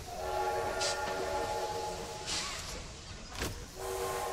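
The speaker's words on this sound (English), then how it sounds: "Pull the horn." A train horn sounds in the horror video game Poppy Playtime Chapter 2, a steady sustained blare that holds for several seconds, then cuts off briefly before resuming near the end, with bursts of steam hiss in between.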